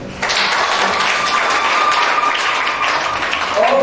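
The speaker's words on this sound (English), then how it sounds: "Again, can we clap for them?" An audience applauds singers at a 2021 matriculation ceremony, a dense, steady wash of clapping that begins abruptly and holds loud throughout, with no voices over it.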